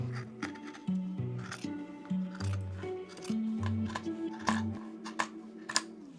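Scissors cut through thrifted clothing fabric in a quick series of close, crisp snips with a rhythmic, slightly squeaky repetition.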